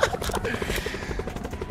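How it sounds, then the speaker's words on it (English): Helicopter in the Call of Duty Black Ops 4 video game, heard as a rhythmic rotor chop under in-game noise, close and fairly loud. "Oh, helicopter actually."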